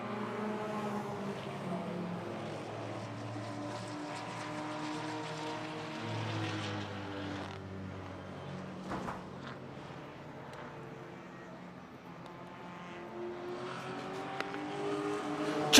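Race cars in a Class X circuit race, BMW M3 among them, pass on the track as a fairly distant, moderate engine drone that swells and fades over several seconds, with no talk over it.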